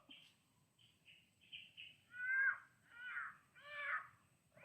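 A crow caws several times at a moderate distance while out hunting, harsh calls growing louder and more insistent toward the end over faint background noise.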